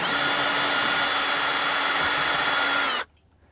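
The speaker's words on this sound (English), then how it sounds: "Now when removing this last bolt, put your hand behind the mirror and hold it into place." A power tool running continuously to back out a bolt on a 2015-2019 Ford F150 tow mirror, a loud steady high-pitched whine for about three seconds that stops abruptly into quiet.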